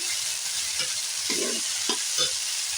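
Spice paste for a malabar spinach, taro and fish-head curry frying in oil, releasing a steady close hiss with a few short stirring scrapes over it.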